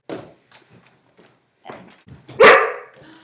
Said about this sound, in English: Can someone get this dog? Someone get the dog out.